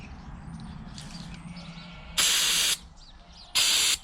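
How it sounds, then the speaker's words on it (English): Two bursts of mass airflow sensor cleaner, each about half a second, hiss loudly over a low mechanical hum, separated by a short pause, sprayed on an oily Jaguar XF supercharger part. "I'm gonna go ahead and spray it with some mass airflow sensor cleaner"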